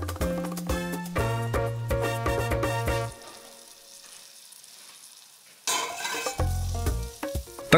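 Onions sizzle and fry in olive oil in a large pot as they are stirred, with crackling bursts that die down to a quiet simmer before flaring up loudly again.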